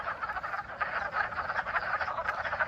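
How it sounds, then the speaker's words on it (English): Wood frogs calling in a chorus at a pond, a dense continuous clucking and croaking from many animals, layered and pulsing, moderately loud with no voices. "I'm listening to our wood frogs chorus as they call and look for mates"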